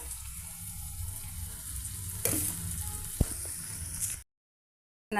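A fried ragi and sooji mixture sizzling in a pan for upma, a steady close hiss with one sharp clink partway through before cutting to silence, then resuming briefly.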